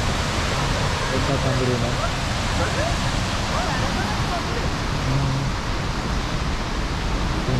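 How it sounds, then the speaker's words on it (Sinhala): A strong river current rushes loudly through Jasper National Park in Canada at dusk, a constant broad roar of water close by while someone talks over it. "සෑහෙන වතුර හැරින් ඇවිල්ලා මේ ඔයගොල්ලන්ට පේන ඇති මෙතනින් සෑහෙන සැර වතුර පාරක් එන්නේ"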